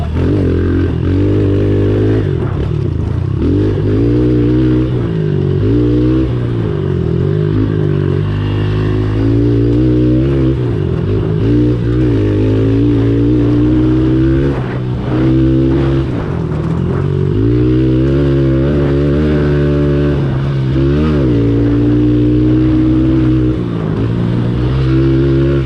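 Honda CRF 110 enduro dirt bike with its small engine revving hard and steadily, the pitch climbing and dipping through repeated throttle changes, loud and close with no talking.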